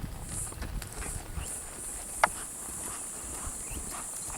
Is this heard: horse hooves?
yes